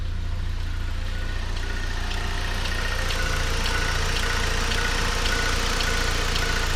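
A 2011 Saab 9-5 engine idles smoothly, a steady low hum with a faint regular tick, heard close and continuous at even volume with no talk.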